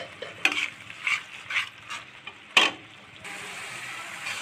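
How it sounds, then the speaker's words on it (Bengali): Spice paste fried and stirred in a pan for rohu fish bhuna, with a few sharp scraping strokes of the spoon over a steady sizzle that grows into a continuous hiss near the end. "তো এই যে আমার এই যে মশলাটা একদমই পরিপূর্ণভাবে কষানো হয়েছে।"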